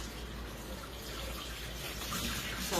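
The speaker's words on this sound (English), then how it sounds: "Wash your hands again." Tap water runs steadily into a sink while hands are washed during sourdough bread making, a continuous close hiss without pause and no talk over it.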